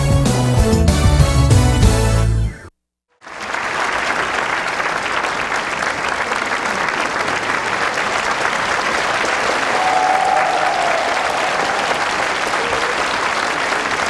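A large church congregation bursts into sustained applause, dense clapping holding steady for over ten seconds after a brief burst of music and a moment of silence.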